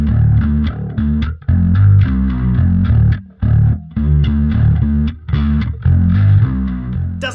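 Electric guitar chords played through a chorus effect placed before distortion pedals give a loud, fuzzy, warbling tone, strummed in short phrases with brief gaps between them.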